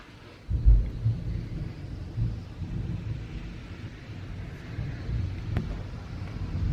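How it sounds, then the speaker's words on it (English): Low rumbling thunder from a thunderstorm rolls in with a sudden deep boom, then continues as a steady distant grumble with rain and wind noise. "we have all the really good thunderstorms"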